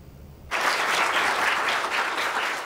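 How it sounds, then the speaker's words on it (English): A crowd of friends bursts into applause greeting Dr. Kent Brantly, an Ebola patient released from Emory University Medical Center in Atlanta, with loud, dense clapping starting abruptly after a quiet moment and holding steady throughout. "Applause greeted Dr."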